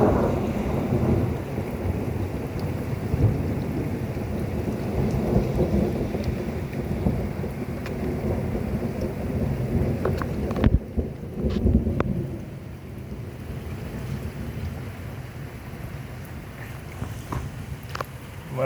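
Heavy rain pours steadily while deep rumbles of thunder roll beneath it, with a few sharper cracks partway through before the storm quiets, in Pertuis, France.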